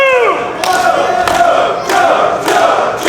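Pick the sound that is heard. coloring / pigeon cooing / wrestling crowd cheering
wrestling crowd cheering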